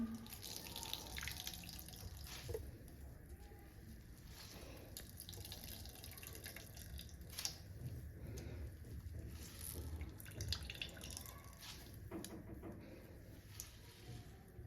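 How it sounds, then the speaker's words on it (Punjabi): Water trickles and drips steadily as grated radish is squeezed, faint and close, with soft splashes throughout. "ਚੰਗੀ ਤਰ੍ਹਾਂ ਨਿਚੋੜ ਕੇ ਤਾਂ ਪਾਣੀ ਕੱਢ ਲਾਂਗੇ"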